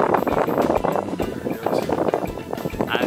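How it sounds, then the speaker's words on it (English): Strong wind gusting across a mountain saddle near Castle Peak in the dusk, roaring and buffeting the microphone in a steady, loud rush throughout. "it's getting windy"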